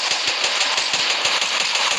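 Automatic gunfire from a mobile shooting game, a rapid run of evenly spaced shots in short bursts over a constant hiss, loud and close, with no voices.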